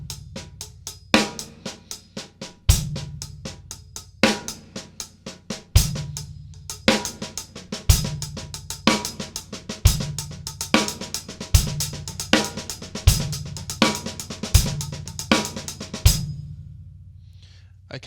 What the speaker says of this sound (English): Just try and get the double paradiddle sticking and turn it into the most basic beat